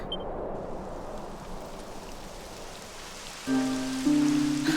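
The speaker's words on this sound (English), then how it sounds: "Typical. It would have to go and start raining, wouldn't it?" Rain falls steadily in Dragon Quest 11 as an even, hissing patter, and tonal game music comes in over it shortly before the end.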